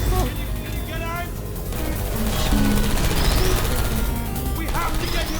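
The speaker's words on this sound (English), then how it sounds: "I heard gunfire" Rapid bursts of gunfire crackle through a busy, loud mix of Portal 2 game effects and music, with cries and shouts scattered over the din.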